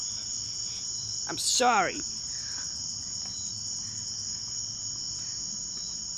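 A cricket chirps in a continuous high, even trill close by, while a person briefly speaks over it.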